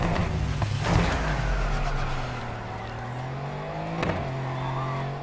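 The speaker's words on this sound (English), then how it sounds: "I did an engine swap on the S13, so if you're wondering why it sounds different" An engine-swapped Nissan S13 in the racing game Need for Speed Heat revs hard while drifting, its engine droning loudly with rising and falling pitch and short throttle blips, near and continuous.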